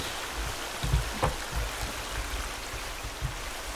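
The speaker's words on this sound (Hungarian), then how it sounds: "Mi ez a vízesés?" Steady rushing water from a waterfall in the video game The Forest hisses continuously at a moderate distance with no voices.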